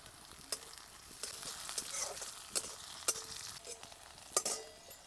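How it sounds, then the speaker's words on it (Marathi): Mustard seeds and chopped onion fry in hot oil for a vegetable dish, giving a steady close sizzle broken by sharp pops and crackles at irregular intervals, with no talk. "भाजीसाठी आता तेल टाकून घेऊ. 1 चमचाभर मोहरी, चिरून घेतलेला कांदा, याच्यामध्ये टाकून घेऊ"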